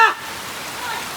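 Heavy monsoon rain pelts down on a mountain trek to Mrugagad fort, a dense, steady hiss of drops close by, after a brief sharper sound at the very start.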